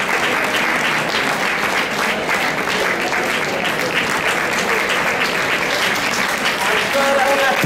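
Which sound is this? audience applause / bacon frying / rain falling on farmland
audience applause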